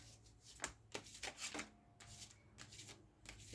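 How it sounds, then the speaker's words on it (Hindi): Tarot cards are shuffled close up in a quiet room, a run of soft riffling bursts and papery slaps, irregular and faint. "Let me just shuffle the cards thoroughly."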